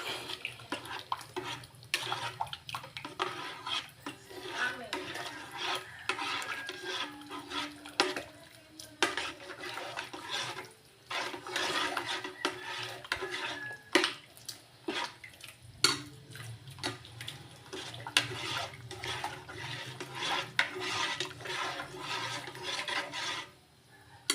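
A spoon stirs thick lomi soup with pansit bato noodles in a pot, giving continuous close scraping and rubbing strokes with soft wet squelches, at moderate loudness and with no speech.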